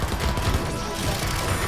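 Dense, rapid machine gunfire from war machines in a Fortnite video game trailer, a loud continuous rattling burst with no gaps over a short span.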